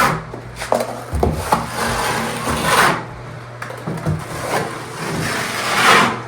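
A trowel spreads SureCrete MicroTek One Coat microcement up a shower wall, giving close, loud scraping and rubbing strokes in irregular sweeps with occasional knocks, no talking.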